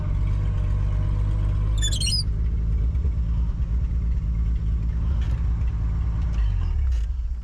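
A 1950 Chevrolet Deluxe rolls along with a steady low engine rumble up close, easing down as it brakes, with a short squeal partway through and no talk.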